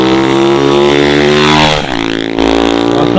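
A 50cc moped with a heavily boosted engine revs hard and steadily while riding a wheelie, its pitch climbing, then briefly dipping before it picks back up, loud and close throughout.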